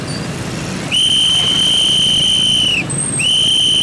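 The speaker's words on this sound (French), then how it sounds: "je commence à siffler pour attirer l'attention de celui qui vient en pleine vitesse de s'arrêter" A traffic volunteer's whistle blows two shrill, loud blasts close by, a long steady blast and then a second after a brief break, over a street background with no voices.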